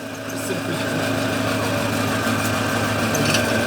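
A homemade generator driven by a 5.5 kW engine runs steadily nearby, a constant humming drone with a slight rise in loudness at the start.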